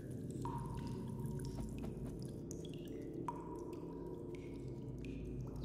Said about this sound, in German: Wir haben hier auch Wasserfälle jetzt neu in der Höhle.